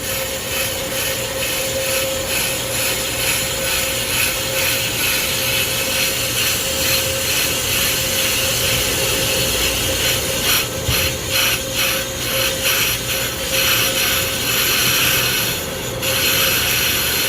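A Pro Cut on-car brake lathe machines a rusty front rotor on a 2019 Ford Transit, producing a loud continuous grinding, rubbing drone with a steady tonal hum and faint rhythmic scraping throughout.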